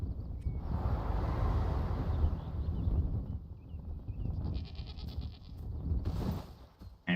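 Goats bleat repeatedly in the video game Enshrouded, a series of wavering, fairly close calls over a breezy outdoor ambience, with no talk.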